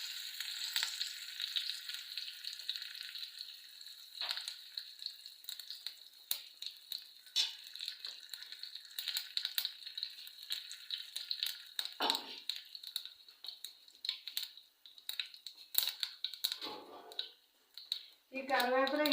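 Curry leaves sizzle and crackle in hot oil with popping mustard seeds for a potato curry, a steady close frying hiss with sharp pops and stirring clicks, while a voice talks over the sound.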